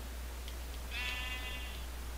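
A Minecraft sheep gives a single drawn-out bleat, moderately loud over a steady low hum, with a couple of faint clicks before it.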